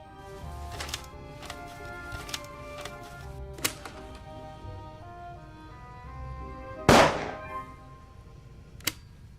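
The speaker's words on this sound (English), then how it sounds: "there's a gunshot noise on the tape" In The Raven, a played tape carries a single sharp gunshot burst near the end, standing out above soft scattered clicks and a faint steady hum.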